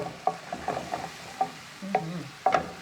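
A pan of melting butter given a quick stir while making shrimp and lobster Alfredo, a series of short spoon scrapes and light taps over a faint background sizzle, close and fairly quiet.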